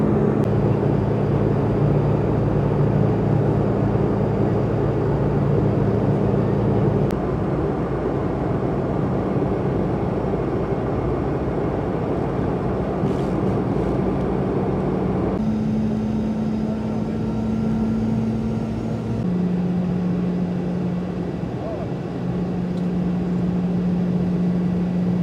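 Cabin of a QantasLink Boeing 717-200 on approach into Melbourne Tullamarine from Launceston: a steady, enveloping engine drone with humming tones that shift pitch partway through, and no voices.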